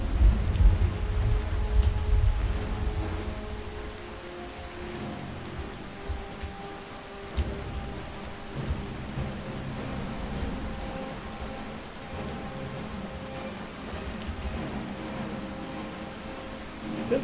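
Steady rain falls in the Skyrim video game, a dense, continuous hiss with low rumbling underneath that is loudest at the start and then holds even for the whole stretch.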